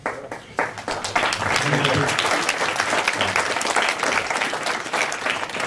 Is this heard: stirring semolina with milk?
no